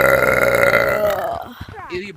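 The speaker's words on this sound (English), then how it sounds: "don't do farts. I do burps, man." A long, loud human burp rumbles for over a second, dense and gravelly, then trails off as a person starts talking right after it.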